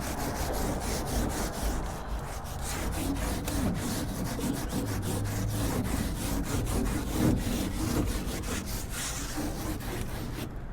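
A deep scrub tool works back and forth over a surface being cleaned, giving a steady, close, rasping scrubbing sound with rapid repeated strokes that continues evenly throughout, with no voices.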